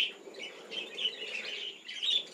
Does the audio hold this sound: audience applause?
no